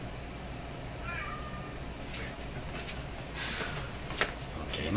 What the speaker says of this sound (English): Okay, enough silliness with the cats.